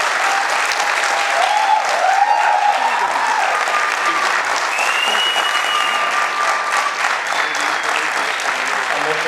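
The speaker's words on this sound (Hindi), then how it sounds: "और जोर से बजा दीजिए ताली।" An audience claps hard and continuously in a hall, a dense, loud wash of applause with a few whoops and cheers rising over it.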